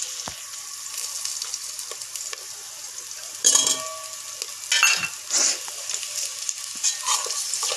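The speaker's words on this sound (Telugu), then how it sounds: "సో ఇప్పుడు ఆనియన్ వేసుకుందాం." Onions frying in oil with green chillies in a pan while cooking veg pulao, a steady close sizzle with several louder bursts as the onions are stirred and scraped with a utensil.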